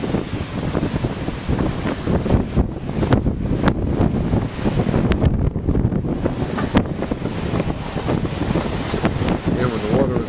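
Big waves on Narragansett Bay under strong wind, a continuous roaring wash of surf with heavy wind buffeting the microphone, loud and steady, recorded near a car window, with occasional sharp knocks.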